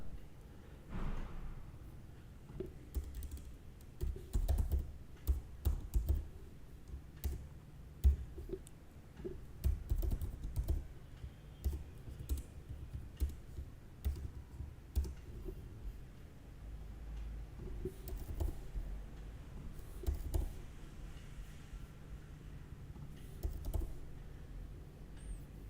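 Quiet, irregular clicking of a computer keyboard as code is typed, with bursts of keystrokes and short pauses, close and soft, with no talking.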